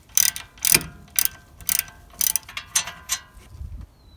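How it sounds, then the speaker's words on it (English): Ratchet clicking in short rapid bursts while loosening the lower 18mm rear brake caliper bolt on a 2013-2020 Chevy Malibu or Impala, a close, crisp metallic pawl chatter repeated about eight times with brief pauses. "As you are removing the lower 18mm bolt, do your absolute best not to harm this brake line as you move this ratchet"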